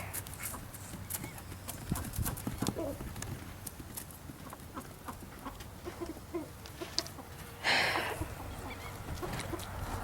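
Horse hooves clip-clopping steadily while a rider works the horse, with chicken clucks and other farmyard noises mixed in and a brief scuffing burst toward the end.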